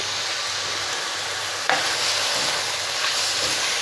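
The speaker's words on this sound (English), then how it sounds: "Now I keep on frying." Chicken casserole ingredients fry in a pan with a steady close sizzle and hiss, broken by a sharp stir or scrape near the middle, no voices.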